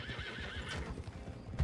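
In the Red Dead Redemption 2 video game, a horse lets out a loud, close neigh while its hooves clip-clop, all within a brief moment and with no voices.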